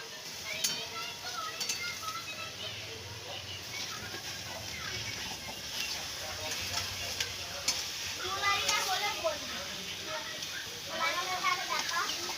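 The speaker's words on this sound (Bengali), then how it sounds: "এই যে আমাদের টমেটো হয়ে গেছে ভাজা।" Tomatoes fry in a pan and are stirred with a spatula, giving a steady sizzle with scraping and small metallic clinks, while a voice talks over it.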